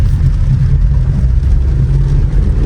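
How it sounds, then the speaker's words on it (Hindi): A 2026 Renault Duster 1.3 turbo manual at full throttle in second gear on a hill road, a loud, steady low engine drone with constant cabin rumble. "अब एक बार वापस फ्लोर करता हूँ"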